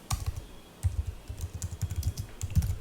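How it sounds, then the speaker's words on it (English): A computer keyboard being typed on: a string of light, quick clicks, close and fairly quiet, with no voice over them. "let me press the tab now"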